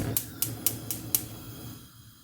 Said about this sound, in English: I'll put the gas on as well.